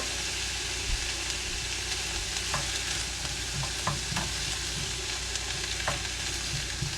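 Onions cook in a pan over medium-high heat with a constant hissing sizzle, dotted with scattered clicks and taps of a stirring utensil against the pan.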